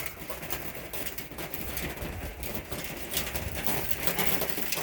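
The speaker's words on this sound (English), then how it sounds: "These pigeons around here are huge." Pigeons coo outdoors in a dense, overlapping flock. Soft low murmuring calls come thick and close, with rustling and scattered clatter mixed in throughout.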